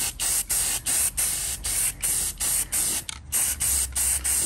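Aerosol spray paint can coating a vintage Milwaukee impact gun during restoration: loud, close hissing sprays in a steady series of short bursts with brief gaps, about a dozen in a row.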